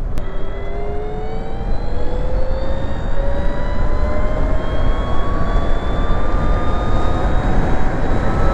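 A steady high-pitched electric whine from a 2020 Masai Vision 5 K 125 electric motorcycle rises gradually over constant road and wind rumble, like a motor spinning up while riding.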